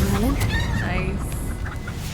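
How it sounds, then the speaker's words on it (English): A chicken clucks and squawks after a transformation spell in the Hogwarts Legacy video game, several short rising calls over a steady background of game ambience, with a voice speaking underneath. "Turned into a chicken."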